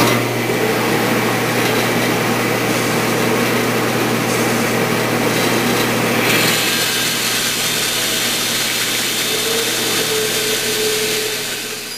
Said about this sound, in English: I have a nice flat surface for cutting this next curve on the bandsaw